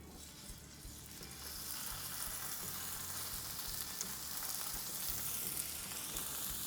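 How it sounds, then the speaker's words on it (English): Steady, light sizzling of a BBQ meat cut frying on a hot plate, a continuous crackling hiss close by with no voices. "Take a moment to appreciate the light sizzle."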